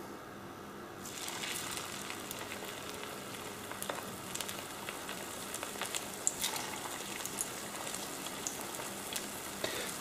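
Egg bread frying in a warmed pan sizzles in a steady, crackling hiss that starts about a second in and continues evenly, close and moderately loud.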